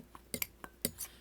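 A utensil clinks and scrapes against a bowl while a pumpkin pie and gingerbread spice blend with cloves is stirred, giving several quick, close, faint taps.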